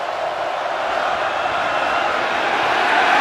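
Loud, steady roar of a stadium crowd cheering at a South Carolina versus Tennessee college football game after an interception, sustained and swelling slightly toward the end.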